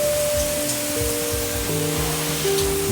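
A shower head on its spray setting runs as a dense, even hiss of water, close and constant throughout, with faint tonal hums beneath.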